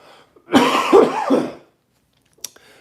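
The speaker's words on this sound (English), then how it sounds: "I'm gonna cough." A burst of three harsh coughs in quick succession, close and loud, followed by silence and a brief faint click.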